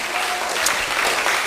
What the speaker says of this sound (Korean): 자, 우리 주님께 박수로 영광, 우리 하나님께 영광.